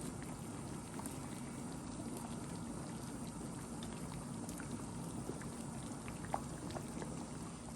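Guyanese fish soup comes to a boil in a pot, giving a steady low simmering and bubbling hiss with faint scattered pops and an occasional louder blip, and no voices.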